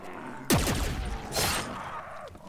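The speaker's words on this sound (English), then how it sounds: "I may have shot this one once already" Gunfire in the video game Black Ops 3 custom zombies, a sharp loud shot followed by a second blast and ringing echo tails, heard close with no talk.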